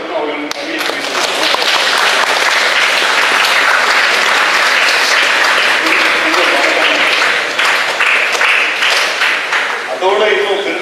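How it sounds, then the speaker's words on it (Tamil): A large audience at a film master class claps to thank the guests: dense, sustained applause, loud and steady for about ten seconds before fading at the end. "பெரிய கரகோஷத்துடன் அவர்களுக்கு நன்றியை தெரிவித்துள்ளோம்."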